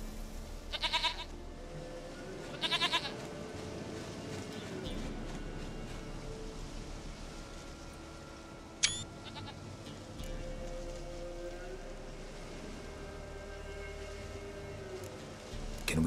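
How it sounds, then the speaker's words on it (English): A goat in The Witcher 3 video game gives two short, separate bleats early on, heard over a quiet, steady game ambience with a sharp click later. "Goat of mine, dearest,"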